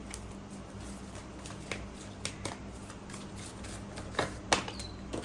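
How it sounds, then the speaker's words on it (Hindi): Tarot cards being shuffled by hand, producing soft, quiet riffling and flicking with a few sharper slaps near the end, heard close and alone with no talking. "I need to shuffle again, just one card."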